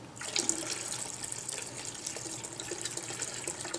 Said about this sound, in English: Now that quart of the Bacazap will go into this solution